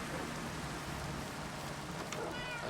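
A cat in the Minecraft video game meows faintly once or twice beneath a steady hiss of in-game rain during a rainy night, with no talking.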